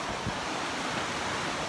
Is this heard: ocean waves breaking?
yes